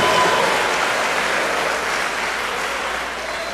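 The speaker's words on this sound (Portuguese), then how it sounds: "Você pode dar um brado de vitória enquanto aplaude" A church congregation at a Baptist service claps together with cheering and victory shouts, a loud, sustained dense wash that stays even and slowly eases toward the end.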